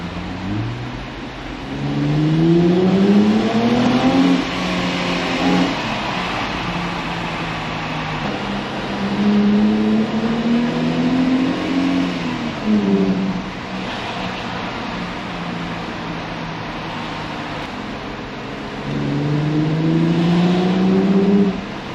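A sports car engine revs hard in a tunnel amid traffic, climbing through the gears in repeated rising surges. Each pull echoes loudly off the walls, with short lulls between bursts.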